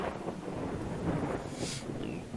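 Rumbling thunder from lightning strikes in a video game battle royale rolls on as a continuous loud, broad roar with some windy noise over the whole stretch.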